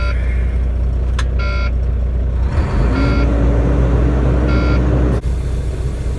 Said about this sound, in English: Got my key. Gotta wait for the air to build up.